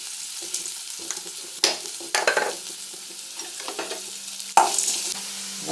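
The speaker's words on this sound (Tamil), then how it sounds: "இப்போ வெங்காயம் ஆட் பண்ணிக்கலாம். வெங்காயம் கல் போட்டு வதக்கலாம்." Onions sautéing in a pan of hot oil with mustard seeds and fennel, with a steady sizzle and repeated sharp scrapes and stirs of a spoon, close and alone, with no voices.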